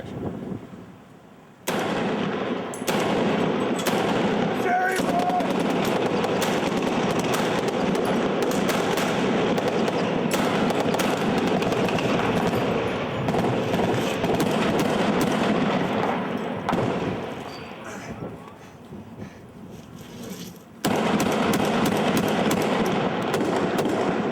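Blank rounds fired from guns on a television film set: dense, continuous volleys of loud gunshots and bursts overlapping for most of the span, easing briefly near the end before resuming at full force, with no talk.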